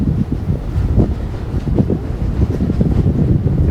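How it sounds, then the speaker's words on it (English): Wind on the New Jersey coastline buffets the microphone with a loud, continuous low rumble and gusty roar, with no other clear sounds. "I know it's windy."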